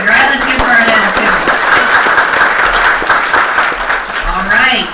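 Warm, steady audience applause at a school board meeting, dense clapping that continues throughout, with a voice speaking over it at the start and end.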